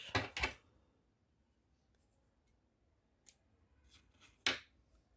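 Scissors snip through crochet yarn: two quick, close cuts at the start, then a quiet pause with small handling noises before another crisp snip near the end.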